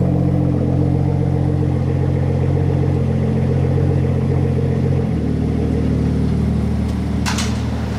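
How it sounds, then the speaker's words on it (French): A loud Rolls-Royce modified by Mansory and Philipp Plein in Monaco, its engine droning heavily and close, the pitch dropping partway through before a brief higher burst near the end. "j'ai jamais entendu une Rolls-Royce faire un tel bruit"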